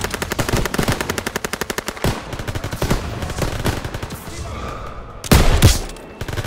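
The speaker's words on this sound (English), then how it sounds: "MG's open fire." Rapid bursts of machine gun fire from the World War II shooter game Call of Duty WW2, loud and sustained with dense rattling volleys, a short pause near the middle, then a heavier booming burst toward the end.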